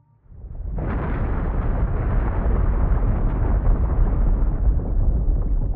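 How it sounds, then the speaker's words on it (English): A volcanic eruption in a documentary film, a deep, loud rumbling roar that bursts in after a brief quiet start and then sustains heavily to the end without letting up. "millions of volcanoes erupted everywhere, filling the atmosphere with greenhouse gases like carbon dioxide"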